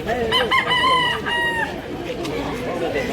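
A rooster crows loudly nearby in Consolacion, Cebu, one long strained call, followed by softer background chatter and farmyard noise.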